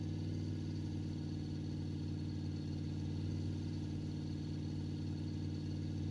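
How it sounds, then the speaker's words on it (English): A vehicle engine idling at high RPM gives a steady, even droning hum with a constant pulsing throb that holds unchanged throughout, with no voices. "I wish that idle sound would stop at a much lower RPM"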